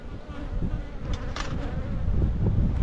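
Honey bees buzz at an open hive holding frames of nectar and honey, a dense, steady droning hum heard close with small rises as individual bees pass near.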